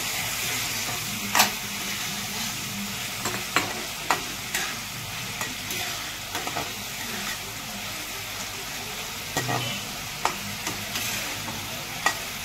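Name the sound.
stirring koi fish curry with coriander leaves in a pan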